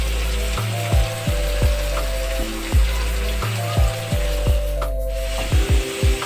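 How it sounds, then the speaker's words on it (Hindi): Finely chopped bottle gourd, with potato, frying in a pan, a steady sizzle broken by repeated scraping and stirring strokes against the pan, with a tonal background hum throughout. "अब हम इसमें ऐड करेंगे लौकी, जो कि बारीक बारीक काट के रखी है।"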